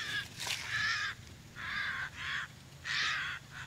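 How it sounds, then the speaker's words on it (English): Several crow-like caws ring out from birds in the Florida Everglades: repeated harsh calls in irregular bursts, moderately close and clear with no talking. "Birds over there screaming."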